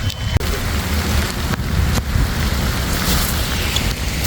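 Heavy rain pours down while fishermen cast a net, making a dense, loud, unbroken hiss with a single dull thump near the start.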